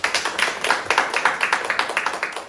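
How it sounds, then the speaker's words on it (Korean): A small group of people claps in a quick, even rhythm of distinct claps, close by and short-lived, no talk over it. "박수 한번 쳐주세요"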